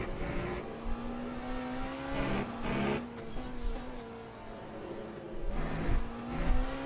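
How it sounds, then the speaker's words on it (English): Race cars drive on track in the sim racing game Le Mans Ultimate, engines droning and revving up and down through gear changes, several cars' tones overlapping with occasional brief tire noise. "Listen to our cars!"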